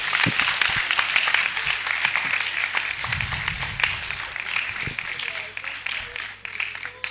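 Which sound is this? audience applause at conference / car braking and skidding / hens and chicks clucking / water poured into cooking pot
audience applause at conference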